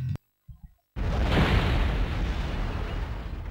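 A bomb detonates inside a bank vault in a Spider-Man video game: a short clatter, then a sudden loud boom that rolls into a sustained roaring rumble, heard alone.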